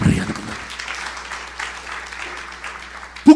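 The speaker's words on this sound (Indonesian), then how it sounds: "Tepuk tangan yang meriah." A church congregation claps during a sermon, with a louder burst at the start, then thinner, fairly quiet clapping that continues as a voice talks over it.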